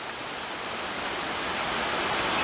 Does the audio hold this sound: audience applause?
no